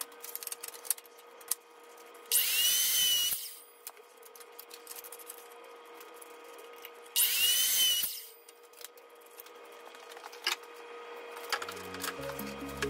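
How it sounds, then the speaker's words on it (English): A miter saw cuts wooden stiles for a barn door cabinet in two short bursts a few seconds apart, each a loud high whine lasting about a second, with quieter workshop clatter and handling between. "I'm using a miter saw to cut the stiles."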